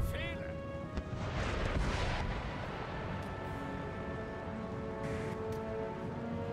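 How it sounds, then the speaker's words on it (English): Rocket artillery barrage in Empire Total War, a continuous rumbling roar of launches and distant booms layered with battlefield noise, with some game voice chatter over the din. "I do like when the rockets go."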